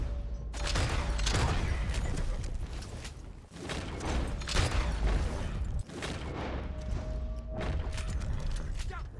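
Gunfire rattles through a Red Dead Online gunfight: dense, loud volleys of overlapping shots keep coming almost without a break, each burst thumping and cracking, with a few short lulls between barrages.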